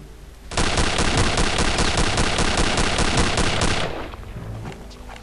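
A paratrooper rifle in Return to Castle Wolfenstein fires a sustained, very loud rapid automatic burst lasting several seconds, then cuts off into lower game ambience.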